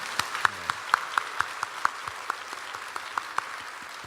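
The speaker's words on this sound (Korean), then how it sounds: "우리가 뜨거운 박수 한번 해주시면 좋을 것 같은데." Church congregation applause during a Sunday afternoon service, a modest, fairly quiet patter of hand claps with a few sharp, evenly spaced claps standing out in a steady rhythm.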